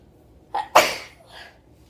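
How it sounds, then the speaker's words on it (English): A woman with allergies sneezes once, a short breathy intake followed by a sharp, loud burst that trails off, close to the mic with no talk around it. "I'm gonna sneeze, maybe."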